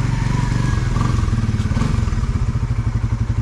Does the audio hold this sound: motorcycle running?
yes